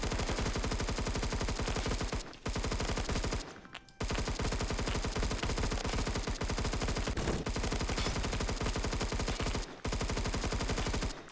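Rapid sustained automatic fire from a Colt LMG in Phantom Forces, a loud close stream of shots broken by a few brief pauses, with no talking.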